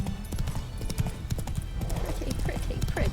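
A horse ridden in Witcher 3 clip-clops in a steady, fast gallop of close hoofbeats, with a faint game ambience underneath.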